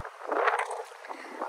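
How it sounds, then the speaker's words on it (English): Steady gusting wind buffets the microphone outdoors in the Florida Keys, a rough broadband rumble that swells and eases throughout with no other clear sounds. "It's super windy today"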